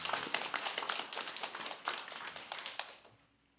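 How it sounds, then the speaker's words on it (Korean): A church congregation clapping in applause, a dense patter of many hands. It holds steady for a few seconds, then fades out quickly, with no talk over it. "하나님께 우리 감사의 박수를."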